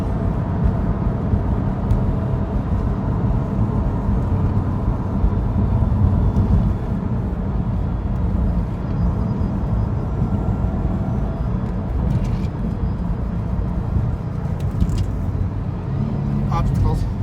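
A 2012 Subaru Impreza STI with a Magnaflow exhaust drives on, its engine and road noise a steady, loud drone throughout while people talk over it inside the car.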